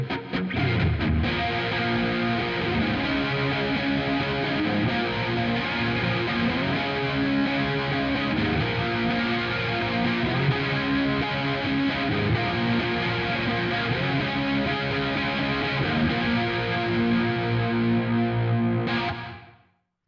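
Distorted electric guitar dialed to an early-90s grunge tone on a NUX MG-300 multi-effects unit with tape echo and plate reverb, loud and continuous, playing a riff with steady chord rhythm for about nineteen seconds before cutting off.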